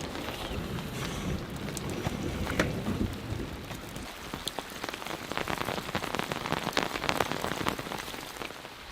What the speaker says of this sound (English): sleet is collecting on the awning. That's no good. This is getting really heavy.